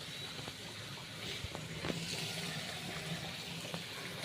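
Water gushes steadily from a motor pump outlet on a cotton farm in Gujarat, a continuous rushing flow heard at moderate distance, with faint knocks and clicks over it.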